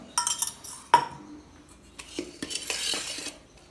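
Cooked rice for brinjal biryani, dressed with sesame oil while hot, being gently stirred with a metal utensil in a pot: a few soft scrapes and light clinks, one sharper knock near the start, then a scratchy burst of stirring.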